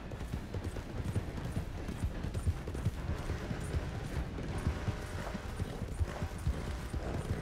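In a Western open-world game, horse hooves clip-clop in a quick, irregular rhythm on the ground, close and fairly loud, with faint scattered mechanical clatter.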